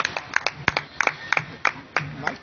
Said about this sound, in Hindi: एक बार जोरदार ताली दीजिए।